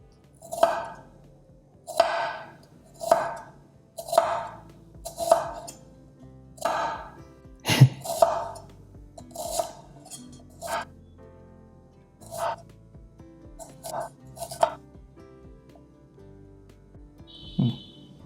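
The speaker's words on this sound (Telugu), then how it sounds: "దీన్ని ఇలా చాప్ చేద్దాం." Knife chopping food on a cutting board, a dozen or so separate, fairly loud thuds at an irregular, unhurried pace, each a sharp knock, with quiet pauses between.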